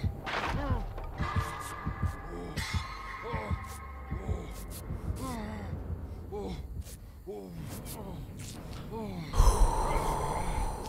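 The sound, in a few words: heartbeat sound effect in video game Dead by Daylight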